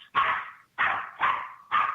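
Dogs in a house bark sharply and close up, four loud barks spaced about half a second apart, with no voices.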